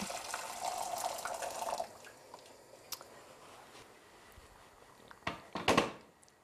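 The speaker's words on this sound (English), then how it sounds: "I'm going to get some boiling water and pop it in a saucepan, ready to cook the rice." Water poured into a saucepan while preparing rice for a chilli meal, a steady splashing pour running for a couple of seconds and then a few louder sloshes near the end, heard close with no talk.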